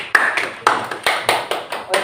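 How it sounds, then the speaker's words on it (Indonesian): Classroom of students clapping hands in unison during a maths lesson, about eight loud, evenly spaced claps in a steady rhythm, close by with no talking. "Mana tepuk tangannya anak-anak?"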